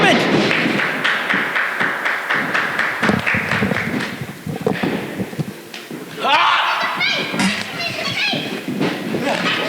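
A wrestler slams onto the ring mat from a German suplex at a CZW Dojo Wars match, heavy thuds and slaps over a busy crowd bed, with a commentator talking throughout.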